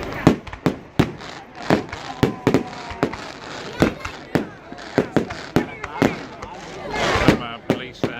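Bonfire night fireworks burst in a rapid irregular string of sharp, loud bangs, some close and some farther off, with crackling between them and a few voices faintly underneath.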